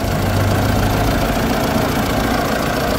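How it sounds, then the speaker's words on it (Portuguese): A used car's engine of about 170 horsepower, at an outdoor used-car fair, idles steadily and loudly up close with a continuous low rumble throughout. "Pedi para que o amigo desse partida aqui nesse motor."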